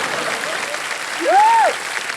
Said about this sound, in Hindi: तेरे लिए तालियां।